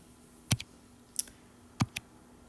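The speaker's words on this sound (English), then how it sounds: "I'm going to type a minus." Calculator keys are pressed in a few sharp, quiet clicks, a pair near the start, a single tap in the middle and another pair near the end, against near silence.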